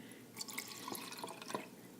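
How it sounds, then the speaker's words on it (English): Water poured into a pyramid-shaped container, a faint trickle with a few soft drips and splashes in a quiet room. "If I pour water"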